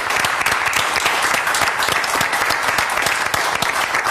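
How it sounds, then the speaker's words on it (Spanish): Steady, dense applause from a crowd at a televised medal presentation, continuous and fairly loud throughout with no break in the clapping. "aplausos"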